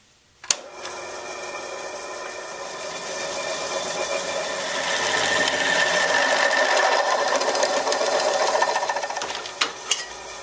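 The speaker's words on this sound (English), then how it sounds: "Next, we just need to drill us a few holes." A drill bores holes in metal while fabricating a log lever, giving a continuous high whirring grind that rises in intensity partway through, with a sharp clunk at the start and a few knocks near the end.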